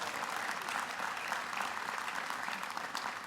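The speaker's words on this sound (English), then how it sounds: "Let's give them a round of applause." Steady, dense applause from a large commencement audience at Morehouse College honouring reunion classes, an even wash of many hands clapping at moderate distance with no pauses.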